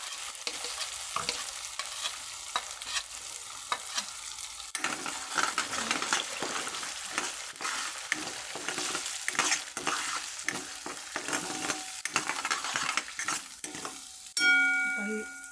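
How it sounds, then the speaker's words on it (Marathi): A paste of green chilli, tomato, garlic and ginger fries in oil for butter palak paneer, with repeated spoon stirring and scraping over a soft sizzle, ending in a brief metallic clink. "जे आपण वाटण बनवलं होतं हिरवी मिरची टमाटो ते आपण आता लसूण अद्रक ती पेस्ट आहे ना असं मस्त फ्राय करून घेणार आहोत तेलामध्ये"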